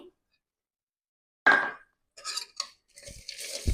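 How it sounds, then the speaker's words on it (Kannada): A spoon stirs a gaadi-style bhelpuri mixture with sev, chaat masala and salt around a bowl, making a burst of scraping followed by scattered clinks and rustles after a moment of silence. "ಚೆನ್ನಾಗೆ ಈ ತರ ಬಿಡ್ದಲೇನೆ ರೌಂಡ್ ಆಗಿ ಈ ತರ ಸ್ಟಿರ್ ಮಾಡ್ಕೋತಾ ಇದೀನಿ"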